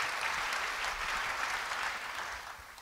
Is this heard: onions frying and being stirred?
no